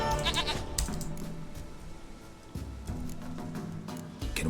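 A goat bleats in The Witcher 3 with a few short, wavering cries early on and again later, loud and close over ambient game sound.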